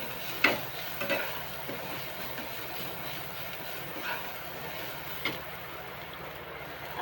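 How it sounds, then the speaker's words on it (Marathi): Crumbled chapati is sautéed with turmeric, coriander powder and spices for chivda, with soft sizzling and the scrape and tap of stirring heard in quiet, irregular strokes. "चांगलं परतून घेऊया."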